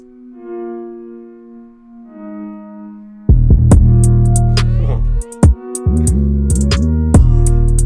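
A soft sustained synth melody gives way to a loud, booming kick drum and deep gliding 808 bass, punctuated by sharp hi-hats in a steady UK drill rhythm.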